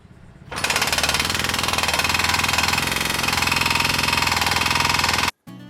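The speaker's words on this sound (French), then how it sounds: "malgré le bruit du marteau-piqueur des travaux d'en face" A jackhammer at a construction site pounds loud and continuous for about five seconds, a rapid even hammering that starts abruptly and stops sharply, with no voices.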